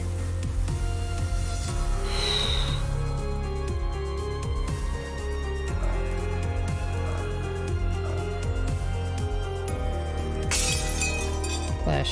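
Glass shatters repeatedly in the fantasy video game Epic Battle Fantasy 5, crisp breaking and clinking effects layered over steady game music, with a bright burst near the end.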